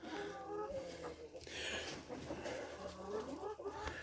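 Egg-laying hens cluck and murmur close by in a steady chorus, with a person talking over the birds.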